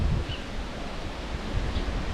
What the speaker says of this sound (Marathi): हे बघा केवढा वारा सुटलाय